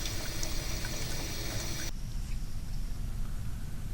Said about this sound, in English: By carefully adjusting the kitchen faucet, we can produce a stream of water that is not only laminar, but also steady